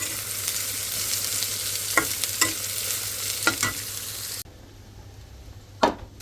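Onions frying in a pan, a steady sizzle with several clicks and scrapes of stirring, which cuts off abruptly partway through, leaving a quieter background and one last knock.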